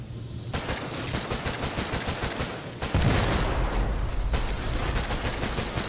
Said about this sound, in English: use hand trigger to fire weapon.